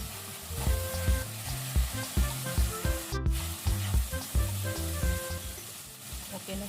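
Pork and potatoes with dark soy sauce sizzle in a hot frying pan while being stirred, with steady frying hiss broken by repeated scraping and clattering strokes of the utensil, close and fairly loud.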